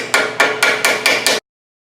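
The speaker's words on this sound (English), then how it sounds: "And you can just tap it down." Six quick, evenly spaced hammer taps on a brake part on a 2008 Mercury Grand Marquis rear brake job, sharp and close with no talk, then silence.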